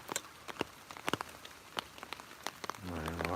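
Rain falling outdoors, scattered drops and taps spattering on surfaces at close range, fairly quiet, with a brief voice near the end.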